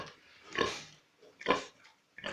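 Pigs and newborn piglets on a farm at the end of farrowing, grunting in three short separate bursts with quiet gaps between, close and fairly soft.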